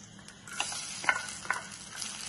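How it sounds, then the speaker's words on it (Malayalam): Coconut pieces frying and being stirred in a hot pan, a steady soft sizzle with a few sharper scraping stirs breaking through, close and fairly quiet, with no talking. "ആദ്യം തേങ്ങാക്കൊത്തൊന്ന് ഒരുവിധം മൂപ്പത്ത് വേണം"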